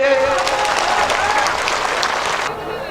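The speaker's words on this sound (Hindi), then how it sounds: "जोरदार ताली बजा के इनका स्वागत करिए" Loud, dense applause from a crowd at a political party rally welcoming the event's host, a continuous roar of clapping that thins out toward the end.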